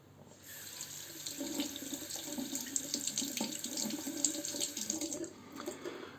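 A Pearl slant razor is rinsed under a running tap: a continuous, moderately quiet stream of water splashing into a sink that starts abruptly and holds steady throughout, with no talking.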